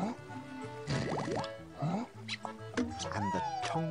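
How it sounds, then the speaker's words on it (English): Cartoon bubble-blowing effects in an animated children's show, a run of bright rising bloops and wobbly popping tones stacked over a bouncy musical backing, close and clear. "blew more and more bubbles."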